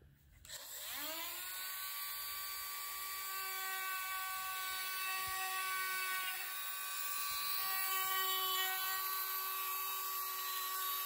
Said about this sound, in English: I'm probably going to have to go back to the Dremel again for a few moments to try to get this track a little bit more defined